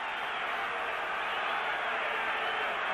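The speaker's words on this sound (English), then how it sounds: "A partisan crowd calling defense" A partisan stadium crowd at a 1971 NFL game between the Los Angeles Rams and the Baltimore Colts keeps up a dense, loud, continuous roar of chanting voices through the whole stretch.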